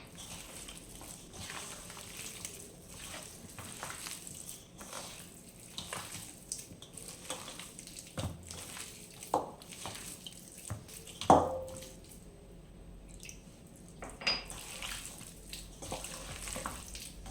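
Chicken pakoda batter is mixed by hand in a bowl while a little water is sprinkled in, giving soft, close, irregular squelches and wet slaps over a quiet stretch with no talk.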